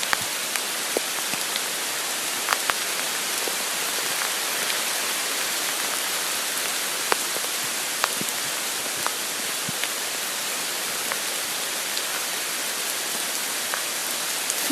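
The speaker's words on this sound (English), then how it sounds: "I just want to listen to the sounds of the rain." Steady rain falling during an outdoor walk, a dense, even hiss of drops landing on surfaces all around, with occasional sharper patters close by, continuous and unbroken, with no talking.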